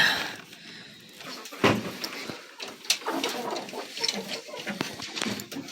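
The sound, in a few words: chickens in a coop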